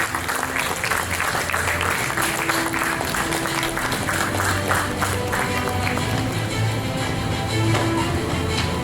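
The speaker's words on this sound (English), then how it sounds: "A big round of applause for Anji Reddy sir." An inauguration audience gives a big round of applause for Dr. K. Anji Reddy, their academic director; dense, steady clapping from a crowd fills the room for the whole span.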